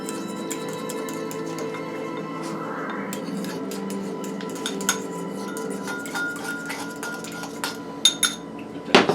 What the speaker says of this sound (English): we will stir this up